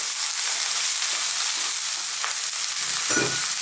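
Chickpeas fry with spices in a hot pan, giving a steady, close sizzle with a few scraping stirs near the end.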